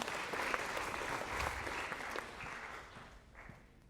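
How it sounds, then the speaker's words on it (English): A lecture-hall audience in a game theory class claps for two student players, a lively burst of applause that gradually thins and fades toward the end. "A round of applause for our two feistier players."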